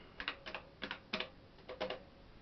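An Amstrad PCW 8256 keyboard clacks out a command in about six quick clusters of close, crisp keystrokes with short pauses between them and no voices.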